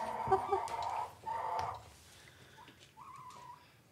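Hens cluck and squawk close by in a few short bursts, fairly quiet, followed by a thin wavering call near the end, with no talking.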